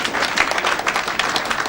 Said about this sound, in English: let's clap for them for that